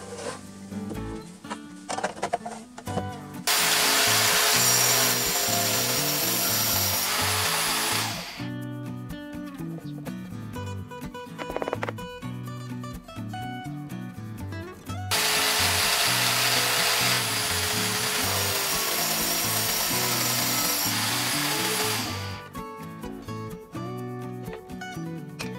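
A plugged-in power cutting tool with a cutting disc slices through wood in two long, loud bursts of several seconds each, separated by quieter spells of handling and clatter.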